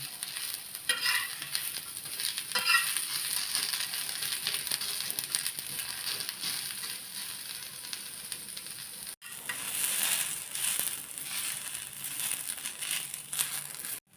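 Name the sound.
onion frying in oil while stirred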